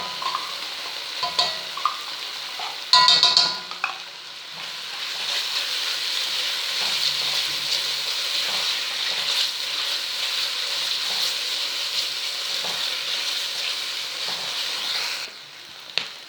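Tomato paste fries and is stirred in a pan for a meatless dish. Bright, continuous sizzling with scraping spoon strokes and a few clattering knocks runs steadily for several seconds, then fades at the end.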